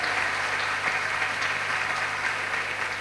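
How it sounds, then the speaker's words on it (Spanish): An audience in a hotel hall applauds the mayor of Mar del Plata, a steady wash of clapping held at an even level throughout. "para quien pido un aplauso, el señor Aprile"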